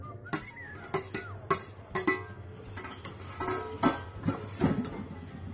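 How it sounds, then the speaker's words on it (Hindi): Paneer being stirred into a tempered masala in a kadai, with repeated metallic scrapes and clinks of a spoon against the pan and a low sizzle underneath, close and steady throughout. "पनीर मिक्स कर देंगे अपना।"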